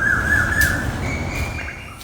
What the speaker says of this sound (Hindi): वहां सिर्फ कोयल अपनी मधुर आवाज से स्वागत कर रही थी